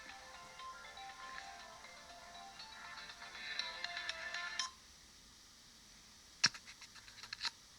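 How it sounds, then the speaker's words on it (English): A mobile phone ringtone plays faintly in a house among electronics and camera gear, a steady electronic ring with scattered clicks and scratches, stopping partway through before a few louder taps and rustles. "And my phone is ringing."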